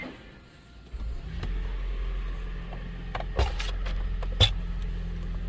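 A Toyota Prius engine in maintenance mode starts after a second of quiet, settling into a steady low idle drone with a couple of brief mechanical clicks, close and moderately loud, with no talking.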